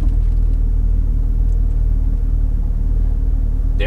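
A car with its DSC system active drives with a steady low engine rumble close by, the idle-like drone holding constant and then shifting slightly near the end as it slows.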